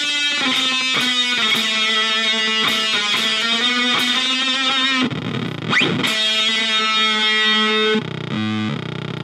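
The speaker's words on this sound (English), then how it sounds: "if I stacked the Honey overdrive and the Shiva, it would sound like this." Electric guitar through stacked Honey overdrive and Shiva pedals, played as loud, heavily distorted sustained chords with a few fast strummed hits and a slide, close and continuous with no talking.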